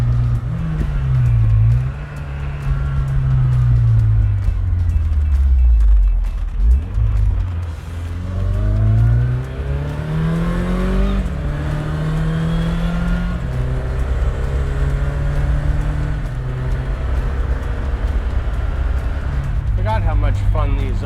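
A 1986 Ford RS200 rally car drives through hills, its engine loud and close, rising and falling through gear changes as it accelerates and eases off, with people talking over it.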